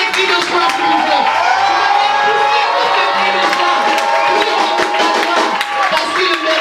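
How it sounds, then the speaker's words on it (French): A church congregation at a morning prophetic service in Côte d'Ivoire cheers and shouts for joy, a loud dense roar of voices with whoops and some clapping throughout. "Tu peux même pousser des cris de joie, s'il vous plaît."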